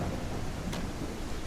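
Steady rain with a low thunder rumble in a building game, continuous and fairly close, with a brief brighter crackle midway; no voices.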